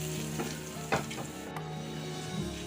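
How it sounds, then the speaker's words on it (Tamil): Tempering with asafoetida powder frying in a pan, a close, steady crackling sizzle with a couple of sharp spoon knocks against the metal. "நல்லா இந்த அளவுக்கு ஃப்ரை ஆகணும்"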